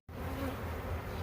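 A honey bee swarm in Sturbridge, Massachusetts, near the spot of a removed hive, buzzes densely and continuously. The steady droning hum is loud and close, with no talking.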